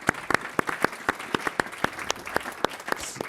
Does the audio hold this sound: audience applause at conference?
yes